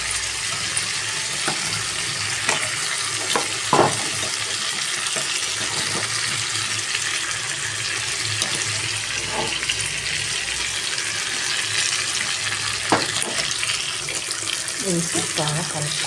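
Brinjal, onion and spice mixture frying in a pan while being stirred, giving a steady close sizzle with occasional scrapes and soft clinks.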